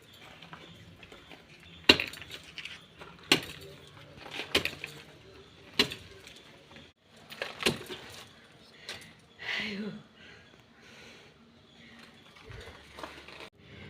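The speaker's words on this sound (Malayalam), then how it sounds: "നമുക്കിവിടെ ഒന്ന് വെട്ടി ശരിയാക്കാം." Hoe or spade chopping and loosening garden soil to plant ginger, a series of sharp irregular thuds and scrapes, close and moderately loud with pauses between strikes.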